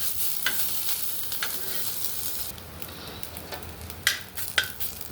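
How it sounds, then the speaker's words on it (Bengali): Ginger frying in a little oil for a rohu fish curry in a village kitchen: a continuous close sizzle with scraping stirs, and a couple of sharper spatula knocks near the end. "আমি আদাটা দিতে ভুলে গেছি, তাই একটু তেলের ওপরে একটু ভেজে ওটা দিয়ে দিচ্ছি ঝোলের মধ্যে"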